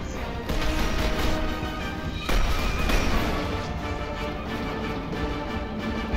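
Dense gunfire and heavy impacts in the Gears of War Ultimate Edition video game, a continuous loud barrage with a sharp crash partway through and no pauses.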